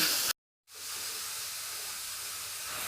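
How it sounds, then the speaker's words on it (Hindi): A steady, forceful hiss of tap water spraying onto a pressure cooker continues after a brief silence, with no voices. "ये मैंने कुकर के ऊपर पानी की टूटी चला दी है"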